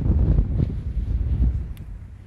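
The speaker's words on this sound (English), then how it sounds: "So windy, rainy." Gusty wind on a rainy day buffets the microphone in low rumbling surges, rising and falling over a couple of seconds, with no voices.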